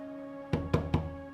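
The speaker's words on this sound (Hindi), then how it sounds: "रिया, रिया बेटा दरवाजा खोल।" Three firm knocks on a door in a Bollywood film scene, spaced evenly about a quarter second apart, loud and close against a faint steady background hum.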